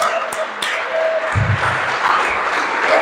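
A church congregation at a Sunday service claps and cheers, a steady wash of applause that continues under someone speaking over it.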